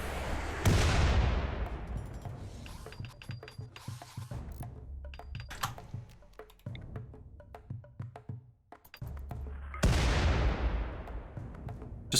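A volley of gunfire on command, with sharp, loud reports at the start and again near the end and scattered distant cracks between them, echoing outdoors with no talking.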